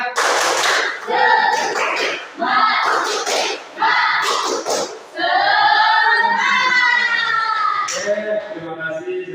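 Classroom children chanting and clapping through the 'tepuk semangat' spirit clap, bursts of rhythmic group clapping mixed with loud, sing-song voices chanting together, close and continuous.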